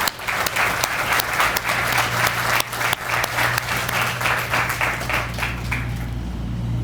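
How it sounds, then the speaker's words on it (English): Crowd applause at an outdoor groundbreaking ceremony for an agricultural export facility in Portsmouth, loud and steady over a low steady hum, with voices faintly mixed in. "Please join me in giving them a round of applause."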